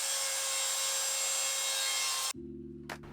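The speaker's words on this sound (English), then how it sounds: "I used a chisel for the remaining part and sanded to smoothen it." Sanding of plywood corner joints on a desk light build, a steady loud broadband rasp that stops abruptly, followed by a lower hum and one short scrape.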